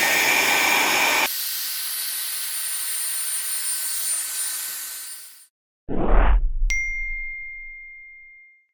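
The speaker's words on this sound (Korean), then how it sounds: "드라이기로 말리시면 됩니다" A hair dryer blows with a loud, steady rushing roar that cuts off, followed by a low thump and a bright ding ringing out.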